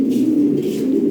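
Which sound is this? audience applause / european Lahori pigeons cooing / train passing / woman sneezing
european Lahori pigeons cooing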